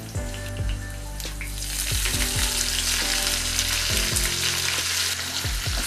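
Chopped onions sautéing in a pan with green chilies for a beetroot fry, a continuous close crackling sizzle with scraping stirs at intervals and a low background hum, no talking.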